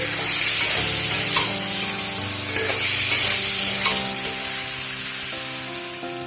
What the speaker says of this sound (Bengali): আলুগুলোকে ভালো করে মিশিয়ে নেব সামান্য অল্প পরিমাণ জল দিয়ে পাঁচ মিনিট মতো আলুটাকে মশলার সঙ্গে কষিয়ে নেব